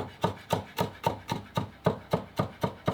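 A knife slicing vegetables on a cutting board, about ten regular chopping strokes at an even quick rhythm, each a crisp close knock with a short scrape, no voices.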